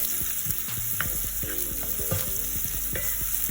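Onion and fenugreek seeds sautéing in a pan, with a continuous close sizzle and frequent scraping stirs and clinks of a spoon against the pan, no voices.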